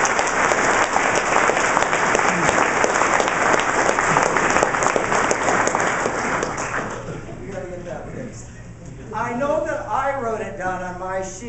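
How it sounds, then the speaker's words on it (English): Audience applause at a strings and choir spring concert for Kristen, a student honored for a state-contest solo; dense clapping fills most of the span, then fades as a voice begins talking near the end. "So a round of applause for Kristen."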